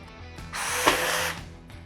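A DeWALT quiet impact driver spins up and drives a fastener in one sustained burst of whirring and hammering, with quieter motor hum before and after.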